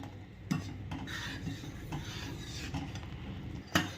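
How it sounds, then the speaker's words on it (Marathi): A spoon scrapes and stirs around a pot of bubbling yogurt kadhi, with soft repeated rubbing strokes and a couple of sharper knocks against the rim. "उकळी येईपर्यंत कढी आपली सतत अशी ढवळतच राहायची आहे"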